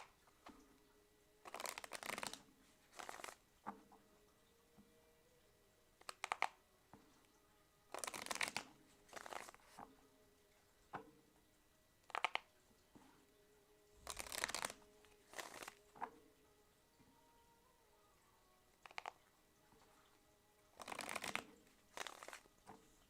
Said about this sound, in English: Tell me when to stop shuffling, okay?